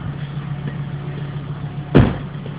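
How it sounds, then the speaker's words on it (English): A Volvo 850 AWD idles with a steady low engine drone, then a single sharp thump rings out near the end as a wheel rolls over a wooden block. "I drive over the wood block"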